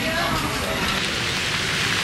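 Steady rain pours down on arrival at a Nantucket rental during a girls' trip, a dense, even hiss of drops with no break across the whole stretch, fairly close and loud.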